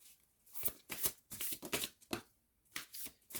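Tarot cards are shuffled by hand in quick repeated riffling bursts with short pauses between them, soft and close, with no one speaking.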